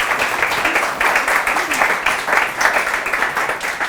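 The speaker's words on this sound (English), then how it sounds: "So big round of applause to our volunteers." Applause from an audience thanking volunteers at a talk on ALS, a steady patter of many hands clapping with faint voices mixed in underneath.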